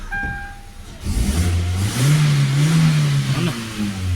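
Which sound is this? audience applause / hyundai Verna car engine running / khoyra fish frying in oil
hyundai Verna car engine running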